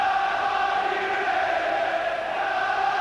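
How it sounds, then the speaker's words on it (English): A large football crowd at an FA Cup quarter final between Nottingham Forest and Ipswich Town roars as a steady, distant wash of massed voices, continuous for a few seconds. "Tremendous crowd here."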